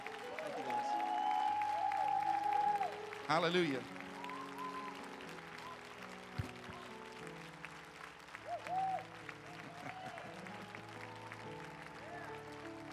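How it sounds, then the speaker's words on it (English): An audience applauds a band of drums, keys, bass and guitar, a dense wash of clapping that is strongest at the start and then thins out, with a voice speaking briefly. "Give them a round of applause."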